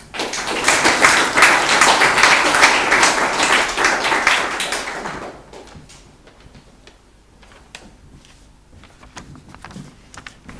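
Lecture audience applause welcoming Lord Inderjit Singh at the Wiener Library: loud, dense clapping for about five seconds, then fading to scattered claps and room noise.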